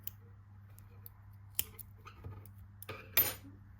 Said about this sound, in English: you're just going to chain one, pull through and cut your yarn